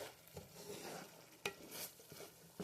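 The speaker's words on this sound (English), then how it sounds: "You see me stirring and stirring and stirring" Food being stirred in a hot seasoned skillet gives a quiet sizzle, broken by scraping strokes and a few sharp metallic clinks from the utensil. It is close and faint, with no talk.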